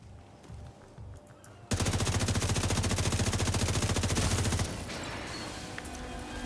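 Rapid machine-gun fire aimed at a target in a video game, one long continuous burst of rattling shots that cuts in abruptly and stops after about three seconds, leaving quieter game ambience.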